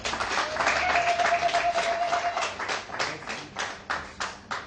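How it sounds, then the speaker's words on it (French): Steady applause from a wedding crowd, many hands clapping together, fading into slower scattered claps toward the end. "applaudissez pour le papa"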